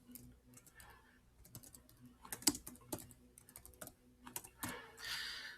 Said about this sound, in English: once I've actually started typing in